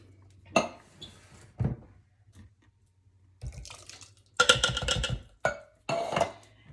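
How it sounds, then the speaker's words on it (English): A can of petite diced tomatoes is emptied into a bowl for homemade salsa, giving a few separate bursts: clinks and scrapes of metal against the bowl and wet, slopping thuds, with quiet gaps between them and no talking. "So you just dump your petite diced tomatoes in your bowl."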